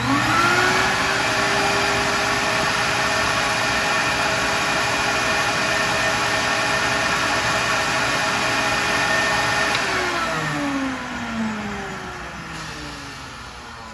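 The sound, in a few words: record cleaning machine vacuuming fluid off a vinyl record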